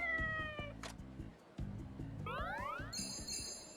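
A cat meows several times in the video game Like a Dragon: Ishin, clear repeated mews over a soft in-game music bed with chiming tones.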